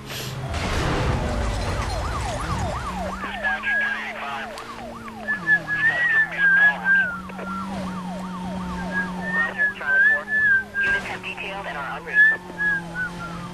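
Police car sirens wail in repeated rising and falling sweeps during a high-speed chase in the video game Need for Speed: Most Wanted, layered over engine drone and game sounds, with someone talking now and then.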